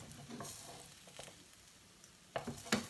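Pancakes frying in butter in a pan sizzle quietly while the spatula scrapes and pushes them around in a few short bursts, the loudest clatter near the end.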